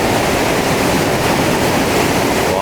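Water cascading down into a canal that flows on to Thirumoorthy Dam in the Thirumoorthy Hills, a loud, dense, continuous rushing roar heard close up with no pauses.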